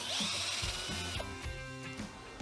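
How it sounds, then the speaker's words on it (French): A cordless screwdriver-drill run in first gear bores a tap hole into a copper tube, giving a close, loud whirring motor with short bursts and pauses as the bit bites into the metal. "tu tiens bien ta visseuse, tu te mets en vitesse 1, pas besoin d'aller en vitesse 2, vitesse 1 ça suffit largement"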